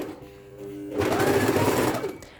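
A sewing machine stitching a dart in a skirt starts after a quiet moment and runs in a steady, close mechanical whir for over a second before slowing to a stop.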